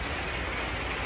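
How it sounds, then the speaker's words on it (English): Snow and hail fall steadily during a mountain snowstorm, a dense, even patter like rain hitting surfaces close around. "Snow/hail."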